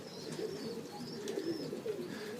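Modoc High Mountain Zipper pigeons, young birds and older ones together in a loft, coo softly and steadily with faint higher chirps over a constant low background, no talking.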